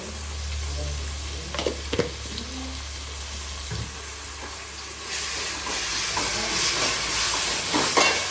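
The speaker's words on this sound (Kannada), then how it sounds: "ಇದು ಸ್ವಲ್ಪ ನೀಟಾಗಿ ಫ್ರೈ ಮಾಡಬೇಕು." Ginger garlic paste frying in oil for a chicken curry, a steady close hiss of sizzling with a few brief stirring scrapes and knocks, growing slightly louder and brighter toward the end.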